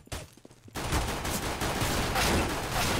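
Rapid gunfire in Counter-Strike: Global Offensive, a dense, loud burst of automatic shots starting suddenly and continuing without pause, preceded by a few quieter clicks.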